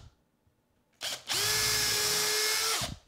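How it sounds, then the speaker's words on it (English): A power drill boring through pallet wood on a guitar body, a short burst followed by a loud, steady whine lasting about two seconds before stopping abruptly, close by. "so all I'm doing now,"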